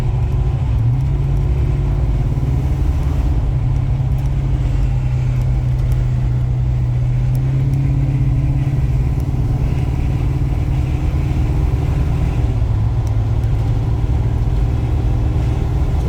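A restored 1970 Chevrolet C10 pickup's engine drones steadily while driving, its low rumble shifting pitch as the transmission drops into overdrive, with no talking.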